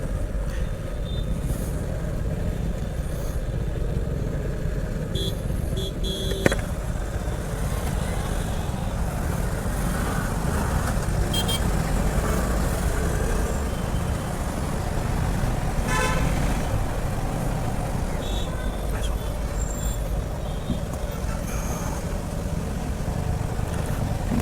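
Heavy road traffic in India heard from a Suzuki Gixxer SF 250 motorcycle, with a constant engine and road rumble and repeated short car and bike horn toots nearby.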